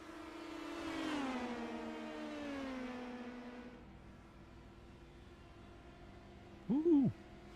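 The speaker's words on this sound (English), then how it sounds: "So we got more cars slowly starting to get going here." Race cars accelerate around the Milwaukee Mile oval, their engine drone rising and whining at a distance before fading, then a brief sharper burst near the end, under faint commentary.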